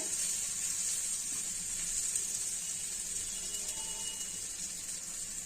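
Spice masala frying in hot oil for a tarka with meat gravy, a steady soft sizzle and hiss running evenly throughout with no voices.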